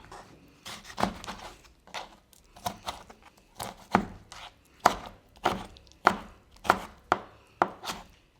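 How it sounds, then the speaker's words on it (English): Poblano peppers are chopped on a cutting board with a knife in a steady series of close, crisp thuds that quicken and grow louder toward the end. "we have chopped our poblano peppers"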